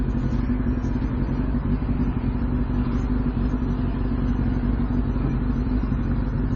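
A Kawasaki Ninja ZX6R (636) sports bike's engine drones steadily while riding, a loud, continuous mid-pitched hum with constant wind rush and no talking.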